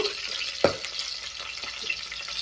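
Ingredients frying in hot oil for a biryani crackle with a steady bubbling sizzle, with one sharp stirring clunk early on and softer scraping stirs after, moderately quiet and close.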